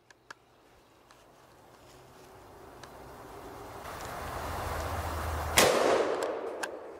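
A Keltec KS7 pump-action shotgun fired at a target: a couple of small clicks and a slowly building rushing background, then one sharp, loud blast near the end with a short decaying tail.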